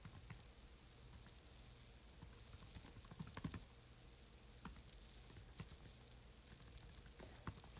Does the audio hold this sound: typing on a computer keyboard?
yes